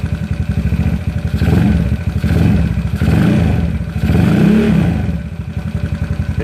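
A GY6 scooter engine idles with a steady low pulsing clatter, then revs up in several loud surges before settling back, close and continuous with no talk.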